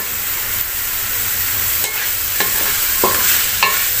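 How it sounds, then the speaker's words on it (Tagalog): Chicken and cabbage sauté in a pan with a steady close sizzle, broken by a few sharp scrapes of a spatula stirring the food. "Igigisa-gisa lang siya natin siya, guys, para ano, hindi na natin siya tatakpan."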